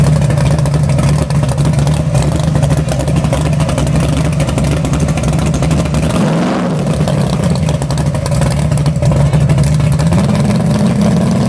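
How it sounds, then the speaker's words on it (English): A drag-racing car does a funny-car-style burnout at a car show and drag race. A loud engine holds a sustained roar, dips briefly midway, then revs back up near and constant. "the Wild Thing really got me excited with his funny car style burnout"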